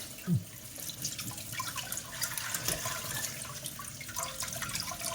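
Water runs steadily from a tap, splashing and dripping as Greek horta (wild leafy greens) are rinsed, with a brief clunk near the start.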